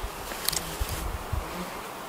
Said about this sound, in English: But yeah, the mosquitoes are definitely getting on me.